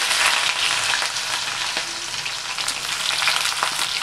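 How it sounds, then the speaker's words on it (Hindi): Bay leaf and onions sizzle steadily in hot oil for a local-style chicken curry, a dense continuous crackle with no speech. "मैं डाल दूंगी तेज़पत्ता और प्याज भी डाल दूंगी"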